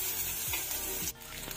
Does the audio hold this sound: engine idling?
no